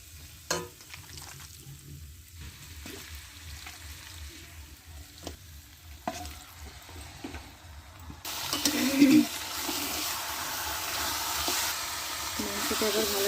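Chicken pieces being stirred into fried spice masala for a homemade curry: scattered scrapes and clatters over a low sizzle at first, then a louder, denser hiss of frying as the meat hits the hot oil, close up, with no talk.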